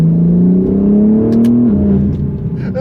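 A turbocharged BMW M3 G80 fitted with a T51R mod accelerates, its engine droning loudly and rising steadily in pitch, then dropping briefly at a shift.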